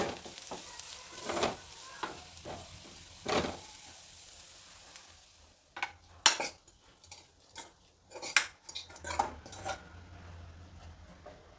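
A fried onion tempering for Kerala-style buttermilk moru curry sizzles and crackles as it is poured in, with spoon scrapes and metal pot clinks in irregular bursts, close and moderately loud, no voices.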